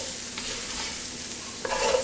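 Squirrel jambalaya is stirred in a pot over a soft, steady sizzle, with a couple of brief scraping strokes near the end.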